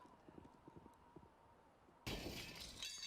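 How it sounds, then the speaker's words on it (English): Window glass shatters in Counter-Strike: Global Offensive, a sudden loud crash and spill of breaking shards after a stretch of quiet footsteps and faint game ambience. "Window shattered open."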